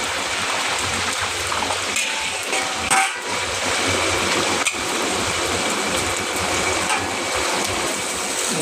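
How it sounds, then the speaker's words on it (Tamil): Dried anchovies (nethili karuvadu) frying in hot oil give a steady, dense crackling sizzle that runs unbroken and close throughout, with a brief dip partway through and no talk. "அதுங்க எண்ணெய் சூடாகிடுச்சு. 400 ml கருவாட்டை போட்டு பொரிச்சு எடுத்துக்குவோம்."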